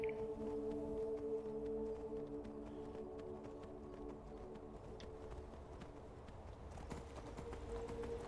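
Faint, rhythmic clip-clop of horse hooves in a video game plods along under a steady hum, with a few sharper knocks.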